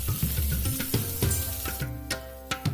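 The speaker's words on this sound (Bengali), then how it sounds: "একটা প্যানের মধ্যে তেল নিয়ে তেল গরম হলে 5 ফোড়ন, কাঁচা লঙ্কা, আদা বাটা আমি ঢেলে দিচ্ছি।" Panch phoron, green chilli and ginger paste frying in hot oil in a pan, a close, steady sizzle and crackle with a few sharp spattering pops toward the end.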